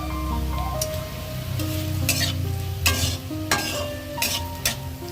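Vegetable peels fry in a little oil in a pan, with a continuous sizzle and soft stirring scrapes and occasional utensil clinks throughout.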